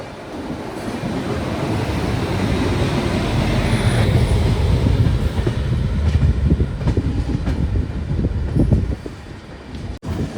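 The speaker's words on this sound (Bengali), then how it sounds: "একদম তীক্ষ্ণ একটা আওয়াজ কিন্তু ভালোও লাগে শুনতে ট্রেন প্রবেশ করছে শিলিগুড়ি জাংশন স্টেশন" Kanchankanya Express pulling into Siliguri Junction station, a loud, continuous rumble of rolling wagons with rhythmic clatter and sharp wheel squeal, easing off near the end.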